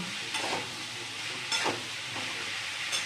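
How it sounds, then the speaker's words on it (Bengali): Vegetarian food fries under a lid in a covered pan, a soft steady sizzle and hiss broken by a few light stirring scrapes, with no talking. "এটা ভাজা হোক ঢাকা দিয়ে"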